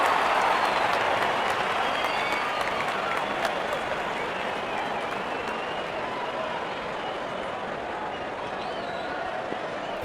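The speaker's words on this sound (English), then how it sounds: "The crowd is enjoying every bit of this action." Stadium crowd noise from the Real Cricket video game during an India vs Pakistan match, a dense, steady roar of cheering and applause sustained throughout without clear breaks.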